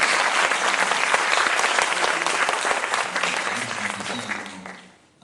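An audience at a college campaign event breaks into loud, dense applause that holds strongly for several seconds, then thins and fades out quickly at the end.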